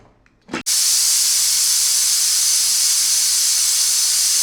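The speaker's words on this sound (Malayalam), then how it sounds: "ഇനി മൂന്ന് വിസിൽ വരുന്നവരെ വേവിക്കുക" A pressure cooker on the stove, cooking beef with masala plantain, lets out a loud, steady steam hiss and whistle that bursts in after a faint moment and runs unbroken to the end.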